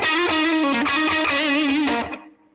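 An electric guitar plays through an Olympus Overdrive pedal with the presence boosted, giving a bright, driven, sustained chord with wavering overtones. The chord holds loud for about two seconds, then cuts off and fades to quiet.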